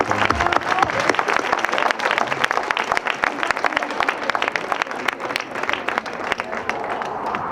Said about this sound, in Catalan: un aplaudiment per a Raquel, per a Jaume i per a tota la gent de la candidatura